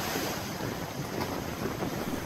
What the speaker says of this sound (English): The wind returned the following day.